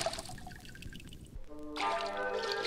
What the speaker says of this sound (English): Frog and Toad jumped into the water.